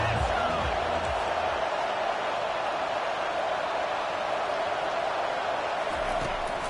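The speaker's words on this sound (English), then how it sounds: "This crowd bringing an ear-splitting welcome to their visitors." A packed stadium crowd at a football game gives its visitors an ear-splitting welcome, a loud, steady roar that holds for the whole stretch while a commentator's voice carries over it.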